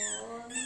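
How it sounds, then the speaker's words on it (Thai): A dog whines in a high, drawn-out, cat-like cry, a steady tonal wail lasting under a second and heard close and clear. "ฟังเสียงหมาร้องเหมือนแมวเร็วร้อง"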